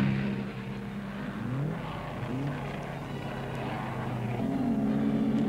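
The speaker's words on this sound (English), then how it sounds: "Fast car approaching, and Ross Dalton, now back in the race" A racing car engine whines louder and higher as it approaches during the 1960 Bathurst 100 race, a steady roaring drone with rising pitch and no voices.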